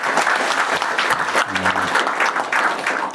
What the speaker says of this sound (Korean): 잘했다고 박수 쳐주신 거죠?